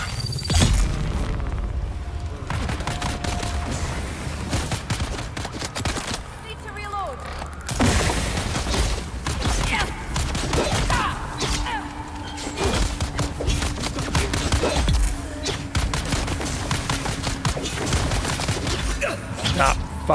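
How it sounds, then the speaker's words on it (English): Repeated gunshots fire in the Dune Awakening video game, with sharp cracks and rapid bursts scattered over twenty seconds. A person talks loudly over the shooting. "Stop fucking shooting me."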